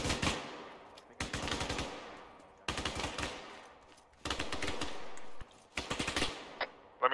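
Repeated bursts of sustained machine-gun fire lay down suppressing fire in a military video game, loud and close, with short pauses between strings of shots and no talk.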